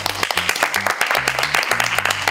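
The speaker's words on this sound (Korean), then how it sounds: "일어나서 한번 천천히 박수" An audience at a K-pop group's talk show claps loudly and close up while standing, the clapping running over steady music with distinct low tones throughout.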